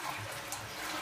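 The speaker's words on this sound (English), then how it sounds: "There we go, nice hot water." Hot water runs from a tap fed by a tankless water heater just after a vinegar descaling flush, a steady, brief, close rushing stream.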